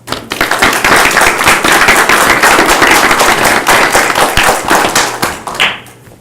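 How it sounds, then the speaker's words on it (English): Employees receive a round of applause at a county board of commissioners meeting: a loud, sustained burst of many hands clapping that fills the room for several seconds before tapering off, with no voices over it. "I think they also deserve a round of applause"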